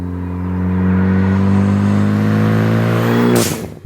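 A Ford Focus ST engine hums loudly and steadily up close while warming up, holding a rich, even drone before cutting off abruptly near the end.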